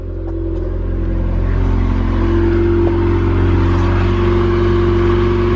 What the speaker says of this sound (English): car is officially on with the new rebuilt engine with a full exhaust system